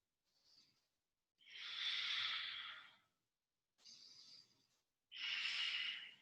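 Slow, deep breaths during a vinyasa yoga pose: two long airy exhales through the nose, each preceded by a shorter inhale, close and clear against silence.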